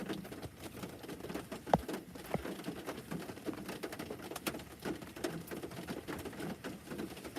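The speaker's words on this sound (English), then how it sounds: "it's raining, man. And y'all can hear, as y'all can hear it" Steady rain patters and crackles on a surface nearby, a dense continuous hiss with a few sharper drips standing out.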